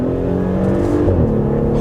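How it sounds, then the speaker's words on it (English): A 2018 Audi SQ5 SUV heard while driving, with a loud, close, steady low exhaust drone and a slight shift in pitch partway through, and no voices. "The burbles this car makes is so satisfied."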